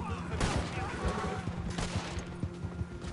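Gunfire in the video game Red Dead Redemption 2 multiplayer, a carbine among the weapons, with rapid repeated shots and crackling bursts through the whole stretch, loud and close, mixed with other game sounds.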